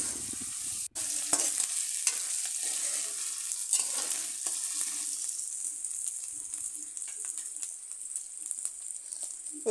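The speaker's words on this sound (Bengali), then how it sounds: "এবার আমি এই আদা বাটাকে কিছুক্ষণ ভালো করে ভেজে নেব" Ginger paste fries with onions in a pan, giving a steady bright sizzle broken by repeated scraping stirs and a few sharp knocks, close and continuous for the whole stretch.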